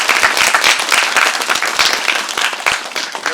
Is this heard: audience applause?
yes